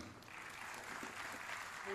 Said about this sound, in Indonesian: Boleh tepuk tangan yang meriah sekali lagi para hadirin.